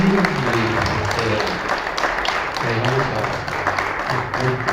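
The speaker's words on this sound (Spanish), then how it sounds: "Pues un aplauso nuevamente para Heidi." Audience applause at a history group's talk about the Battle of 25 March 1866, steady and moderately loud throughout, with someone speaking over it.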